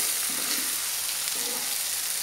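Sambal with sugar being stirred in a frying pan, a steady close sizzle with two soft scraping stir strokes.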